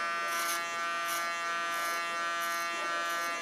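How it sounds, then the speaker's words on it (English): Electric hair clipper buzzing during a side-shave haircut, a steady close high-pitched whine with rhythmic swells as the blades pass through hair, roughly five strokes in a few seconds. "Use my clipper as a comb as always."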